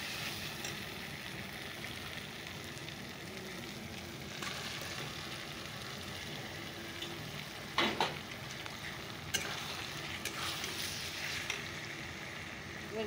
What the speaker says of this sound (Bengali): তো চলো এবার চিকেনটাকে ছেড়ে দিই।